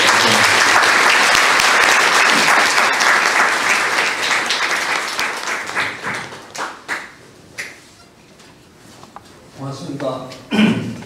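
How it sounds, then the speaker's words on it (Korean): Loud, sustained audience applause welcoming a professor to the stage at a KAIST special lecture, dense at first, then thinning into scattered claps and fading, with a few words of speech near the end. "최재천 교수님을 다 함께 뜨거운 박수로 모십시오"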